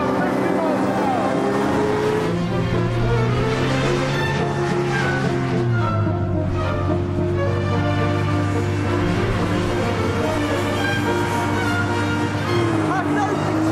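A small two-stroke hovercraft engine drones loud and continuous, its pitch shifting slightly as it runs, with a voice faintly under the steady roar.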